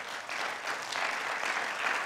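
Steady applause from a church congregation, dense and continuous clapping that swells slightly toward the end, with no voices standing out.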